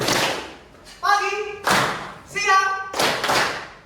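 Students in a classroom clapping in short groups on a teacher's command, with close sharp claps between bursts of voices calling and answering.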